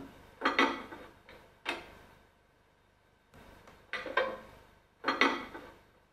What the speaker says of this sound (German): Zunächst der Kupplungssound